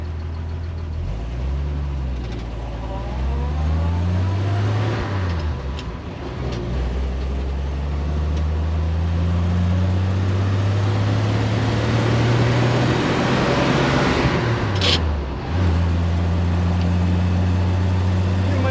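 A 1956 Willys Overland pickup truck with a three-speed manual drives on a highway, its engine loud and close as revs rise and fall through gear changes, with road and wind noise underneath.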